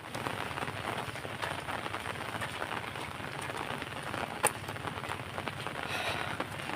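Heavy monsoon rain keeps falling over an open area, a constant close patter and wash of drops, with a single sharp tap midway and no speech.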